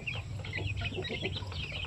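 Shamo aseel chicks around one month old cluck and peep in a soft, continuous chatter of overlapping calls.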